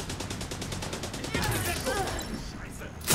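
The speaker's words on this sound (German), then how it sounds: "Die schießen ja schon auf uns." Enemy gunfire in The Division 2 crackles as rapid, evenly spaced automatic shots for over a second, then turns into scattered firing and fading shots, with a voice partly over the action.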